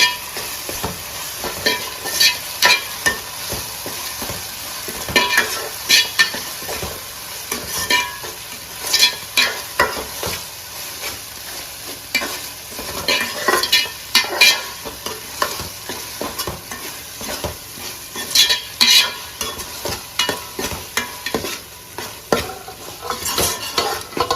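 Masala spices frying in a pan for Telugu fish pulusu, stirred steadily. A continuous close sizzle runs throughout, broken by frequent scraping stirs of the spoon against the pan, with no talking.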